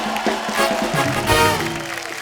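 Brief burst of studio audience applause and cheering on a television talk show, loud and close, with clapping and whoops mixed through it.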